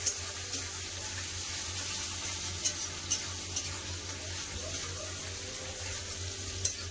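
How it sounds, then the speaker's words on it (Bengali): Onions fry in oil in a pan with a steady, even hiss throughout, broken by a few faint clicks, close and alone with no talk. "পেঁয়াজ ভাজা গেছে, এবার মাংস দিয়ে দেবো।"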